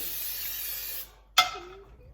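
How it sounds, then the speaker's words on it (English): A short hiss of an aerosol cooking oil spray can lasting about a second, followed by a brief clatter and a faint voice. "I'll give that a bit of a spray"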